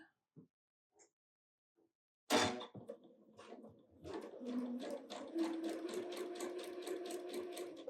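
A sewing machine stitches a quilt block for a snowman, bird, skates and shovel Christmas design, starting with a sharp clunk after a few soft taps and then running in a steady, close, rhythmic whir.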